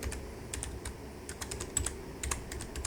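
Python code is typed on a computer keyboard in quick clusters of close, crisp key clicks with short pauses between bursts, and no voice.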